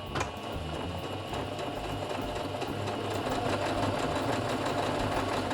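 A domestic sewing machine stitches steadily once the foot pedal is pressed, a continuous close mechanical whir with a fast, even rhythm that builds slightly in loudness as it runs.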